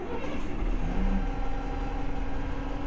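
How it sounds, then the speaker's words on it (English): A diesel city bus engine in the OMSI 2 simulator on Vienna route 24a idles steadily with a low, continuous rumble and a faint rising tone, loud and close with no talk over it. "and then we'll start the engine and get it all running."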